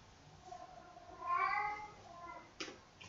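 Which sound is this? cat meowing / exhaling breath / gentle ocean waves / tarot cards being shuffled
cat meowing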